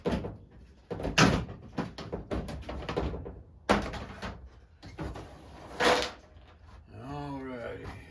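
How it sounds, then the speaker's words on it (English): An oil pan and loose bolts from a NASCAR odd-fire Chevy V6 are tossed into an old tub, giving a series of loud metallic thunks and clatters in a garage, with someone talking between them. "I'm gonna throw this pan and these extra bolts in here so I don't lose nothing."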